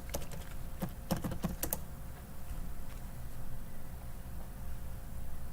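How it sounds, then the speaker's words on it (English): Typing a password on a computer keyboard: a quick burst of sharp key clicks near the start, then sparse isolated taps over steady low room hum, close and fairly loud, with no talking. "You're going to want to click your account, type in your password."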